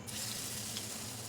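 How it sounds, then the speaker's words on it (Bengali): Broccoli fritters in gram flour batter frying in hot oil, a soft, even sizzle heard close by but faint, with no talk over it. "এখন হচ্ছে ব্রোকলিতে ভেজে নেব।"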